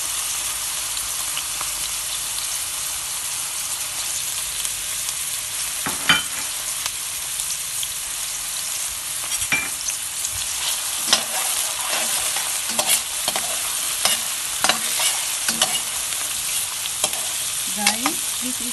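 Garlic frying in a pan for a chicken afritada with pineapple, with a steady loud sizzle and repeated scraping clicks of a utensil stirring through the oil.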